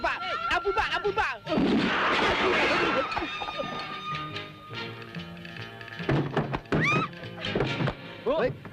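Gunshots in an Indonesian Warkop DKI comedy film come as sharp bangs and thuds among lively film sound, with voices, cries and other effects around them and brief quieter stretches between the busier moments.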